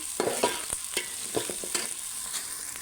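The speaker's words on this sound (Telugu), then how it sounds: "ఉల్లిపాయ కొంచెం మంచిగా ఫ్రై అవ్వాలండి" Chopped onions frying in a pan for a bitter gourd curry, a steady close sizzle broken by sharp scrapes and taps of a stirring spoon at an irregular rhythm.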